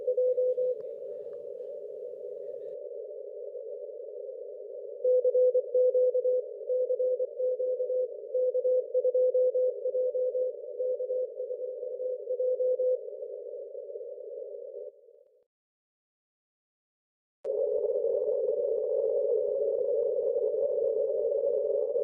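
Weak CW Morse code CQ call received on a Flex 8600 radio, heard as a steady tone keyed in rhythmic dots and dashes, cutting out briefly before a continuous tone returns.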